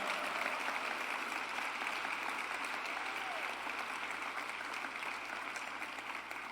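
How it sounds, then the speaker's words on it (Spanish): A church congregation applauds strongly in praise during a Sunday school service, a continuous even wash of clapping that holds steady throughout at moderate distance. "Dale un aplauso bien fuerte al Señor"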